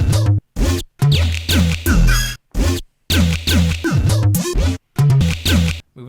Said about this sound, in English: I took that melody that I wrote before and just doubled it an octave up.